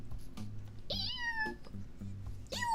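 A cat meows twice, with a rising then falling tone, at close range; the second call comes after a short pause, with a faint low hum underneath and no talking.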